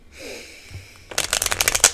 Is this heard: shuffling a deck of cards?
yes